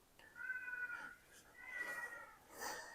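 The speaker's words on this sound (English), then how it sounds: "You can hear my kitty." A pet cat meows three times in a kitchen where breakfast is being made, each call clear and drawn out with short pauses between, close by, with no talking.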